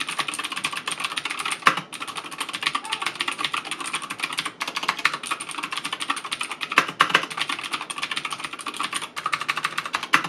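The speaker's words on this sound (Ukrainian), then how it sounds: "Однією з характерних особливостей цієї механічної клавіатури є клацання" Steady, fast clicking of a 1stPlayer MK8 Titan wired mechanical keyboard with Gateron Blue switches being typed on, crisp and close, with brief pauses between runs of keystrokes.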